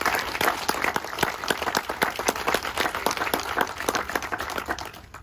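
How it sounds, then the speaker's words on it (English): A crowd applauds and claps hands at a Juneteenth ceremony in 2021, a dense, steady wash of many hands clapping that fills the whole stretch at close range without a break. "Let's give a hand clap for all of those and for all of us."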